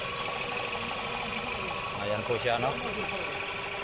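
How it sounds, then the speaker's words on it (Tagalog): A Toyota Camry engine, running again after a main fuse repair, idles with a steady mechanical hum and faint knocking throughout while someone speaks briefly over it. "umandar na po yung ating makina dito sa ating Toyota Camry"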